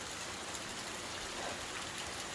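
Steady rain and running water pour across a property during an atmospheric river storm on the last day of 2022, a continuous soft wash of trickling and splashing with no voices.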